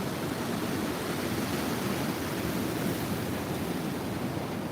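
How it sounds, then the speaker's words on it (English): Ocean waves break on a beach at sunrise: a continuous, loud wash of surf with no distinct individual crashes and no voices. "Get some good waves today."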